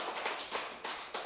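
A church congregation at a Friday prayer meeting clapping, several quick bursts of hand claps at a modest distance with no talking.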